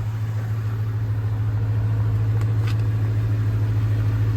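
A car engine idles steadily just after a rough-sounding startup, a constant low hum with no talk over it, at an auction lot.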